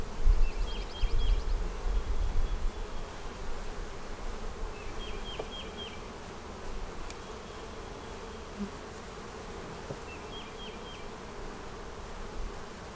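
Dense, continuous buzzing of many honey bees close by around a ten-frame split hive, a steady drone with faint chirping calls recurring in the background.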